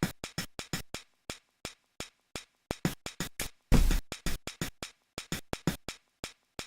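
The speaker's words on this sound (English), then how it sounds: "Just a very standard hi-hat." Hi-hat hits programmed on an AKAI MPC Studio for a hip hop beat, a steady train of short, crisp ticks at close range, with one longer, heavier hit near the middle.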